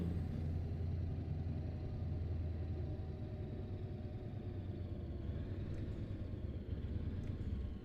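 Modded truck engine in Euro Truck Simulator 2 drones with a steady, loud low rumble, holding an even idle-like hum throughout with no talk.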